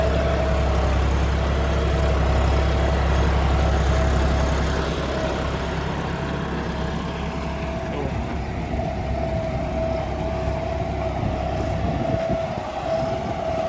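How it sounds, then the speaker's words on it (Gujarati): A John Deere 5210 4x4 farm tractor engine runs with a loud, steady low drone that eases to a quieter hum after a few seconds and continues evenly. "ઉભા રહે, તમે નીચે ઉતરીને બતાવું ટ્રેક્ટર કેવો હાલે."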